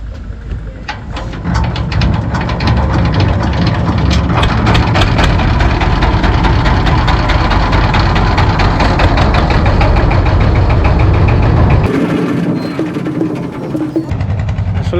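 Several motorbikes idle together while waiting to cross at a rural fair, a loud, steady close-up engine rumble with knocking pulses that drops away near the end.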